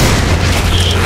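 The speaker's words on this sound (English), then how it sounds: "Grenades do the job well done with these doors." Grenade blowing open doors in the Lost Planet 3 video game: a single deep, loud boom with a rumbling roar that fills the brief moment.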